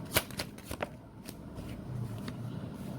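Tarot cards are shuffled in a few quick riffling bursts at the start, close and crisp, before fading into quieter handling.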